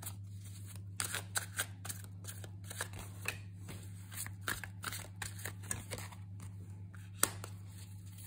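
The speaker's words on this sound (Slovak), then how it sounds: "Takto a ešte si k tomu vytiahnem oraklové karty." Oracle cards being shuffled and drawn by hand: close, soft papery slides and crisp snaps at an irregular pace over a steady low hum.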